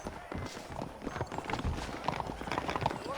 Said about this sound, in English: bring the horses around front